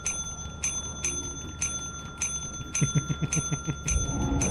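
A bell in the game Lethal Company rings over and over at a steady, regular pace, bright repeated strikes over low background noise with some faint rumbling thuds.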